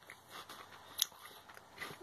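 A crunchy Frazzle bacon rasher crisp bitten close to the mic, a single sharp crack near the middle among faint quiet crunching, with no talk.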